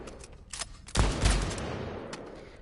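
Shotgun blasts in the virtual reality shooter Blood & Truth: a couple of heavy, booming reports in quick succession, then a rumbling tail that fades out, preceded by faint sharper clicks.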